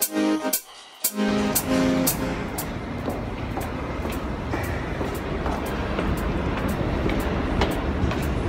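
Steady rumbling of a moving train heard from inside, with rhythmic clicking and a brief quiet moment near the start.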